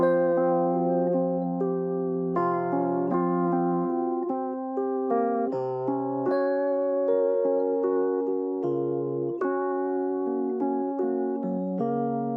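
A sustained keyboard chord progression with a mellow electric piano tone, chords changing every second or so, smooth and continuous with no voices.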